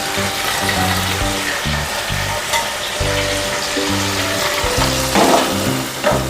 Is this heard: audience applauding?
no